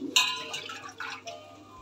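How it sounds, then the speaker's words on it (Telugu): Water poured from a glass into a pot for Telangana-style bagara rice, a short splashing pour with a sharp clink at the start and light liquid trickle after. "ఐదు గ్లాసులు వాటర్ అయితే వేసేసుకుంటున్నాను"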